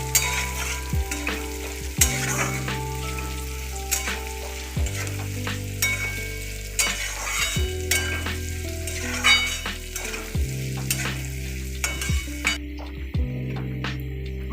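A poha mixture fries and sizzles in a pan, with a steady crackle and clinks and scrapes of a spoon stirring against the metal, close and continuous.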